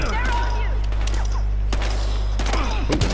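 Gunfire in the video game Battlefield Hardline, with rapid shots cracking out in clusters over a steady low background hum.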